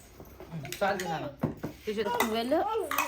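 Cups and spoons for a meal clink and clatter as they are picked up and set out, close and fairly soft, under steady conversation throughout.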